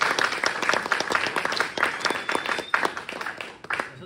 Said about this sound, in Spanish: un aplauso grande para él.